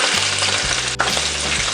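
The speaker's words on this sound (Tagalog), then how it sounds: "unang gagawin ko po ay ipiprito ko po muna itong ating bituka ng baka" Beef intestines frying in a pan, a steady broad sizzle with faint stirring scrapes, loud and close, with no voice over it.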